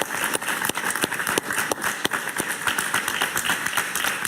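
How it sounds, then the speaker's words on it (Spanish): A studio audience applauds on a live television talk show, a steady patter of many hands with sharper individual claps standing out. "Un aplauso para Enrique Salas Romer."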